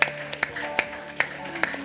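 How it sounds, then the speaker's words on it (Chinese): Congregation in a church applauding, a handful of spaced, sharp claps standing out over a soft background of room noise and murmuring voices. "来，我们掌声热烈！"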